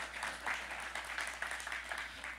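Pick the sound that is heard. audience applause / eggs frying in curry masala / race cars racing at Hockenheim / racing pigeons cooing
audience applause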